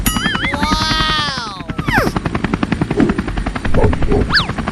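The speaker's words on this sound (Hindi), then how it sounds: "मुझे हेलीकॉप्टर उड़ाना नहीं आता, बस बटन दबा रहा हूँ।" A helicopter flies nearby with a loud, rapid, steady thumping of its rotor blades. Swooping, whistling tones rise and fall over the rotor beat early on and again near the end.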